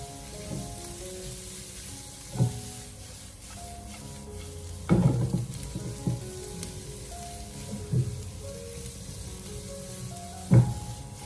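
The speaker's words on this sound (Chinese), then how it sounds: "把它快速的翻炒一下，给它翻炒均匀" Carrot shreds and cooked egg stir-fried together over high heat in a wok, with a steady sizzle broken by several sharp spatula scrapes and clanks at irregular intervals, close and fairly loud with no talking.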